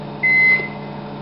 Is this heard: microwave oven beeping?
yes